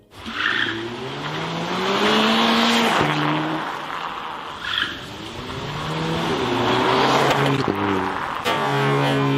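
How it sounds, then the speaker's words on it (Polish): A car rolls over a Galaxy S6 calculator in an extreme durability test, its engine and tires rumbling loud and steady throughout with a few squealing, shifting tonal sweeps. "Za chwilę zobaczycie, jak poradzi sobie pod kołami samochodu."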